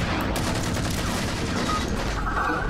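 Shotgun fire in the Halo 4 video game, loud and dense, packed with rapid blasts that run through the entire short stretch.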